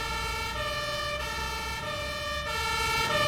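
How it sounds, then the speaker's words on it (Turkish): Fire engine siren in the Emergency Call 112 firefighting video game, a loud continuous wailing tone that swells and dips in pitch on a repeating cycle over low engine rumble, with no talking. "Kapat sireni kapat."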